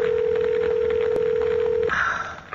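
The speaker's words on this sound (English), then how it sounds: "Answer the damn phone." A telephone sounds a single steady, loud electronic tone that holds for nearly two seconds and then cuts off abruptly, followed by a brief stretch of quieter room noise.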